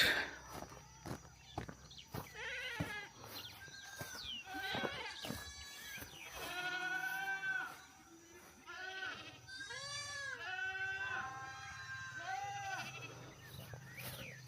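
Goats bleat repeatedly in a goat shed on a large cattle ranch in Uganda, several calls overlapping at close range with rustling and footsteps between them.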